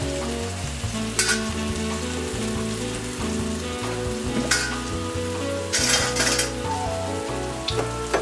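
Steak sizzles in a pan with butter, a steady close crackle with occasional louder spits and light clinks of a utensil against the pan, with no talking.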